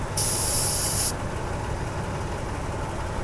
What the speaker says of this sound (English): the air compressor stops once it's primed up and full